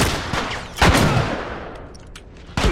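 A burst of gunfire in the video game The Last of Us cracks out, followed by another sharp shot, loud and close, with ringing decay between the blasts.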